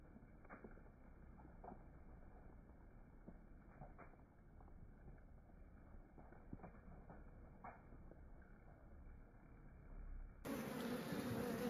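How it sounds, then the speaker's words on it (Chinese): Honeybees buzz around a wild honeycomb found in the mountains, a faint continuous drone with scattered closer passes, ending in a sudden louder burst of noise. "看这些小蜜蜂还在吃糖，这是金黄色的。"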